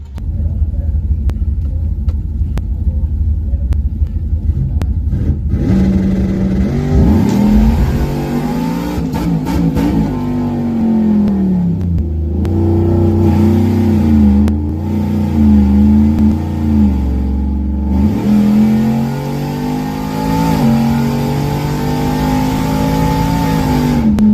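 Supercharged 392 Whipple Ram truck on a drag pass, engine revving loud and close then pulling hard through rising and falling gear sweeps, a deep rumble throughout.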